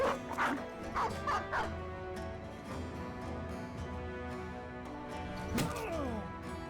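A dog in the video game Battle Brothers gives a few quick yips and barks against game music and combat effects, with another sharp bark burst later.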